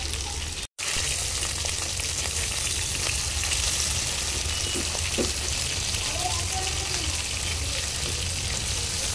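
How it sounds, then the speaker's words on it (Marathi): Dhoma fish heads sizzle steadily in hot oil, a dense, even crackle that stays loud and close throughout, broken only by one instant of silence near the start. "परत सुद्धा आपण डोकं टाकून घेतलेलं आहे, तर ते फ्राय करून घेतो"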